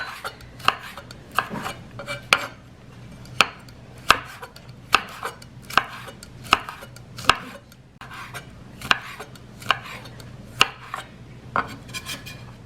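A knife chops a big mango and chili pepper on a board in steady, evenly spaced strikes, each a crisp, close thud with a light clack.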